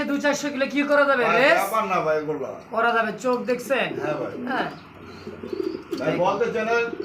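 Pigeons cooing close by at a pigeon farm, soft repeated coos between and beneath people talking in Bengali.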